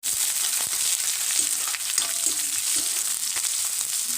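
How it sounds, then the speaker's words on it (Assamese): Steady, loud sizzling of onions and chillies frying in hot oil, continuous crackle with faint stirring, no talking. "দিছো ইয়া পিয়াজখিনি আৰু এইখিনি মই এতিয়া অকণমান ভাজি লম"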